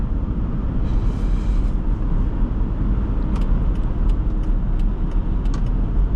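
A 2008 Chrysler Aspen with a 5.7L HEMI V8 drives along, its loud, steady engine drone and road roar heard from inside the cabin, with a few faint rattles and ticks over the hum.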